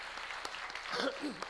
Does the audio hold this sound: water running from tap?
no